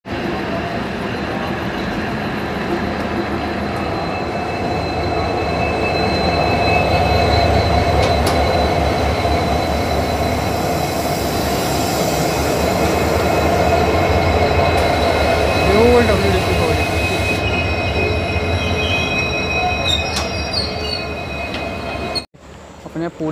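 The Hoshiarpur-Agra Cantt Express pulls out of Jalandhar City station: a loud, close, continuous rumble of rolling train cars with wheel squeal, steady throughout before cutting off abruptly near the end.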